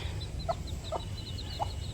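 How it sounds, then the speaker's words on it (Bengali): Hens forage in a yard, giving three short, distinct clucks spaced apart over a low ambient hum, with high faint chirps scattered throughout. "এই যে এই পাশে থেকে আন্টির মুরগি এই জায়গায় খেলতেছে।"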